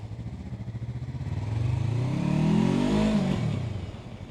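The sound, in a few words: Yamaha R3 motorcycle engine running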